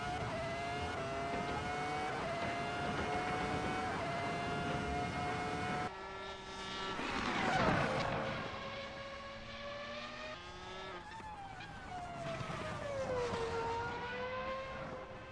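A 2004 Formula 1 car lapping the Nuremberg circuit in the Assetto Corsa racing game, its high engine note rising and falling steadily through gear changes and corners, loud and continuous with no talk.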